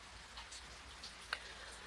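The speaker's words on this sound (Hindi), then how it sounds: "लेकिन कल से यहाँ बारिश नॉन स्टॉप हो रहा है" Nonstop rain falls steadily, a soft continuous patter with scattered faint drop taps and one brief sharper tick, fairly quiet and with no voices.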